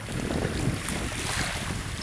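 Waves breaking on an empty beach at Mytilini on a summer morning, heard as a steady broadband wash of surf with heavy wind rumbling across the microphone, loud and continuous with no voices.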